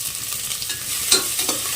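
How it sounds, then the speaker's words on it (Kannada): Onions with a pinch of salt frying in a pan for chili chicken gravy, a soft continuous sizzle with a few light scrapes of a stirring spoon, close and without voices. "ಇದು ನೀಟಾಗಿ ಫ್ರೈ ಆಗಲಿ"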